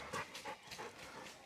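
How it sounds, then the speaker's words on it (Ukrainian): A dog pants outdoors near large tables by a lake, giving quick, rhythmic breaths at close range with no talk. "Ось песик."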